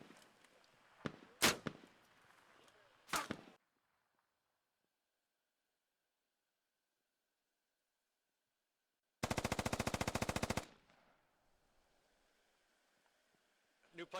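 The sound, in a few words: SAW machine gun fire in Squad video game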